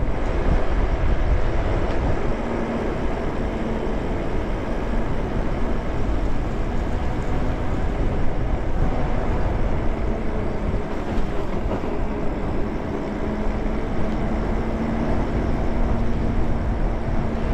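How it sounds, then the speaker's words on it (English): Steady, loud wind rush while riding a Ghostcat F2.2 1500W electric bike at speed. The low, broadband roar buffets continuously with no breaks and no talking. "Boy, that wind is almost wanting to take my helmet off."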